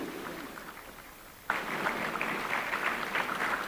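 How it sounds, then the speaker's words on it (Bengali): An audience applauds to welcome a guest onto the stage at an academic ceremony, with steady, dense clapping that starts abruptly after a quiet moment and carries on evenly. "করতালি দিতে থাকুন।"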